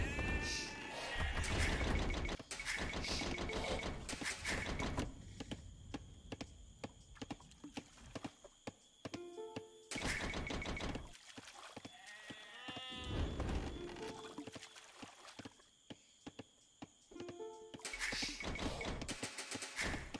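Sheep bleat in an Age of Empires match, with repeated loud bleats in short bursts scattered through the clip alongside hoof clatter and busy game sounds.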